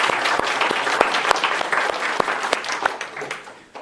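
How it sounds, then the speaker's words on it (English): Audience applause at a technical conference talk on the GHC Haskell compiler, a dense crowd of hands clapping steadily and fairly loud, tapering off toward the end. "these people all deserve a bit of a round of applause, if we could."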